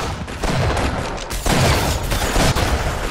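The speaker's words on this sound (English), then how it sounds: "Okay, I'm going to kill someone with the gun. And I'm going to do a headshot." Gunfire rattles in an online shooter video game, with a rapid series of loud, close bursts and booming impacts that follow one another over a few seconds, with no talk.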